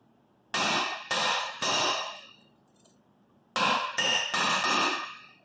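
A hammer strikes a brake drum to work it loose: three loud metallic clangs, a pause, then four more in quick succession, each ringing briefly before fading.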